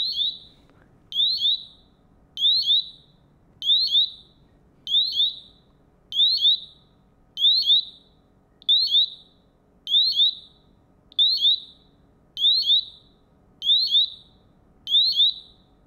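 A Honeywell BW Solo gas detector sounds its low-range alarm: a loud, steady series of about thirteen sharp, high electronic chirp bursts, evenly spaced at just over one per second, with nothing else over them.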